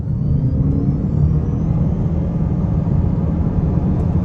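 A 2023 Mitsubishi Outlander PHEV SE with a single-speed transmission accelerates hard on a test drive. A steady, loud cabin rumble and whir hold evenly throughout with no voices.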